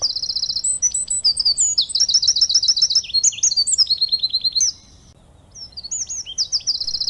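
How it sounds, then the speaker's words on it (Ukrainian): Birds chirp and trill busily in quick bright phrases, several calls overlapping, with a brief lull before the chirping resumes. "це спів пташок."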